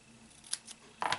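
Scissors snip through a white washi tape label to cut it in half, giving a couple of short, crisp cuts and then a brighter, longer snip close by, with no talking.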